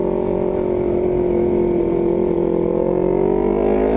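A Honda CBR 250RR fitted with an R9 GP series exhaust revs hard close up, a loud sustained high-pitched engine wail that climbs steadily in pitch.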